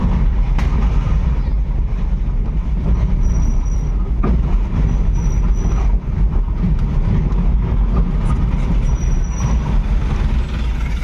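Metro train rumbling past on rails in a city street, a loud steady roar with faint wheel squeal running throughout, no talk.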